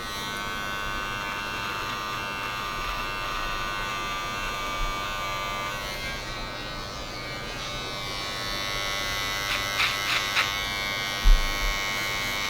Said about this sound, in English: And instead of just grabbing my clippers to tidy that up, I just use the trimmer.